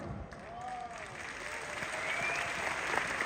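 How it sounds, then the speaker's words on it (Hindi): An audience at the R C M Rupantaran Yatra event in Delhi applauds steadily, a dense wash of clapping from a large crowd with faint voices beneath, holding an even level throughout. "इन लोगों की तालियों से इस बात का एहसास होता है कि आपके लिए ये आत्मा से, दिल से ताली मार रहे हैं"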